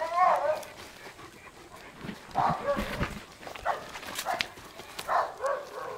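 Dog barks and yips come in short bursts over a noisy background, with a few faint whimpers between them.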